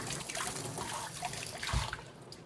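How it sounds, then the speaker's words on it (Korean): Garlic cloves rubbed and rinsed by hand under a running kitchen tap, a steady close trickle and splash of water with soft scrubbing, no talking. "마늘은 이렇게 담아서 이렇게 비비듯이 씻어주셔도 됩니다."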